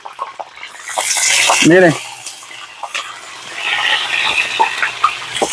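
Water runs and splashes in a sink while yellow chili peppers are washed, a close, uneven gush of rinsing with bursts of splashing, under someone talking.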